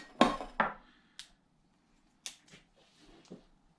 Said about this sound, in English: Right, ETA Lite, get this unpacked.